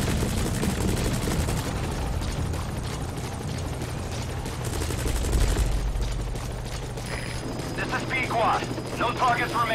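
Helicopter in Metal Gear Solid V: The Phantom Pain whirring continuously amid a busy game mix of gunfire-like bursts and rumble, with someone talking over it.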